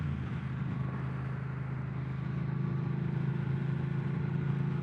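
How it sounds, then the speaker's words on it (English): A Triumph Thruxton 1200 motorcycle's engine pulling steadily while the bike accelerates out of a construction zone on the road, a continuous low rumble with wind noise and no speech. "That little 1200 engine has some spirit to it."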